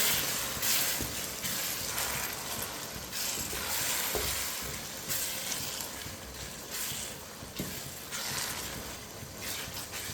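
Cinnamon pieces and a star anise flower cook in a pan for Hyderabadi chicken biryani, a close steady sizzle broken by repeated scraping stirs and clinks of the spoon.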